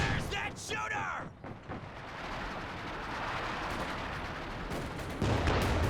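Gunfire and artillery in the Company of Heroes 2 strategy game, a continuous rattle of shots and distant booms under a busy battle din, with a louder swell of fire near the end.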